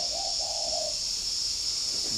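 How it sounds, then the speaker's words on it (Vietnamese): A pet dove coos in soft, low repeated notes early on, answering a faraway wild dove, over a steady high hiss of background insects or ambience. "Nó đang đáp với một con rừng xa xa ấy."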